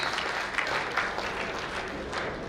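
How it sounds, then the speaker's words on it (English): Audience applause following a presentation at a professional knowledge-sharing session, a steady wash of many hands clapping at moderate volume for a few seconds without pause. "a big round of applause for this excellent presentation"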